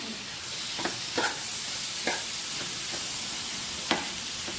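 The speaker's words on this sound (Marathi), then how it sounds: "पालक धुवून चांगलं कापून घेतलेलं आहे. हे आता चांगलं मिक्स करून घेऊया." Spinach with potatoes and peas being stirred in a frying pan, a steady soft sizzle broken by several brief scraping stir strokes, close and fairly quiet, with no talking.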